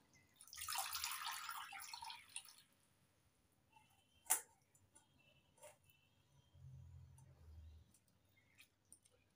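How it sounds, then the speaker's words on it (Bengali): Water draining from soaked grated potatoes in a large colander, a bright splashing rush for about two seconds, then a sharp drip, small trickles and a low clunk of handling nearby. "সবগুলো গ্রেট করা আলু জল ঝরিয়ে তুলে নিচ্ছি।"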